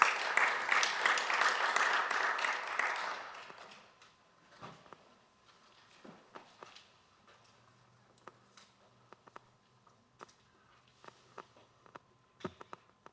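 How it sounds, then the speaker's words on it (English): Audience applause for a poet at an open mic presentation, a dense burst of clapping for about three seconds that fades out, followed by scattered faint knocks and ticks. "Let's give him a round of applause."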